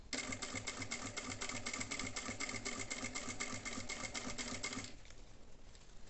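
Sewing machine stitching slowly around a curve while making a sewing kit, a fast steady mechanical chatter close up that runs for about five seconds and then drops away, leaving a low hum.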